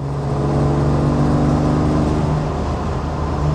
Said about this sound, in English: I hear a vibration when I get on the gas.